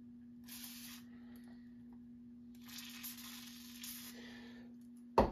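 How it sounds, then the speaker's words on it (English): WD-40 sprays in two hissing bursts into the cylinder of a 1943 Gravely Model L engine during a top-end rebuild, close and quiet over a steady low electrical hum, ending with a brief clunk. "Spray the cylinder down thoroughly."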